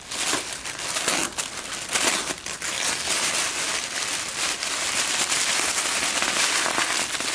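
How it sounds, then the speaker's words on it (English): Continuous crinkling and tearing of wrapping paper as a present is unwrapped, loud and close, with busy crackling texture and no talking. "Unwrap it."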